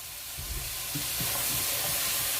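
Raw onions and peppers sizzle steadily in a hot pot while a utensil stirs them, with soft scraping strokes over a constant close frying hiss.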